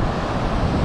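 Wind blows steadily at the seaside on a fishing trip, a dense, loud rush buffeting the microphone, with possible surf in the background.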